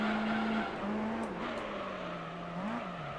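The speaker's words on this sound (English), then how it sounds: "It's already drifting." Car drifting in Gran Turismo 3 on a Seattle city circuit: a steady engine drone with a wavering pitched whine, like tire squeal, sliding up and down over continuous road noise.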